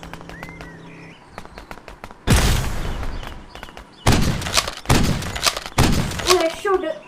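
Bombs explode in the video game Dude Theft Wars: four loud, booming blasts come one after another over the last five seconds, with talk and lighter game noises before and between them.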